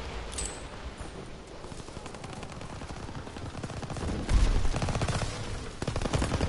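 Dense, continuous gunfire in a WW2 shooter game, rapid machine-gun bursts overlapping single shots, growing louder and heavier toward the end with no voices.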